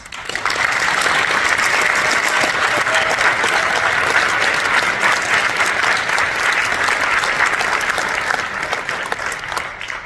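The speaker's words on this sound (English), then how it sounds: "please join me once again in applauding all of our new Honor Society members" Sustained audience applause at a high school National Honor Society induction ceremony, a steady, dense wash of many hands clapping for about ten seconds before tapering off at the end.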